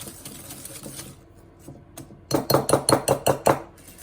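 Butter and sugar are creamed by hand in a bowl for blueberry muffins: faint scraping at first, then a quick run of about eight rhythmic, clinking beats of the spoon against the bowl.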